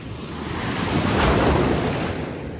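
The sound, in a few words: strong sea waves at Hydra beach, Aegean Sea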